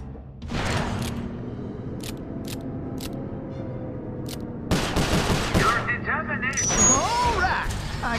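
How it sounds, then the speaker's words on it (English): Gunfire in the Sly Cooper video game, loud bursts of rapid shots separated by a quieter stretch with a few isolated clicks, close and harsh, with game voices around it. "Nice shooting."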